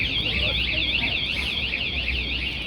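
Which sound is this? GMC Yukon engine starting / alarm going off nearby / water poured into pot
alarm going off nearby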